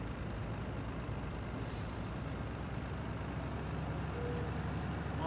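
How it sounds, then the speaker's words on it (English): A truck in Farming Simulator 19 rumbles with a steady, low engine drone, a short air-brake hiss standing out early on. "We're going to take the black truck here"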